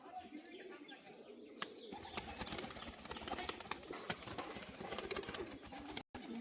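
Pigeons, including a male display pigeon, coo in a loft with scattered wing flaps and rustles, fairly faint and close, while someone talks over them.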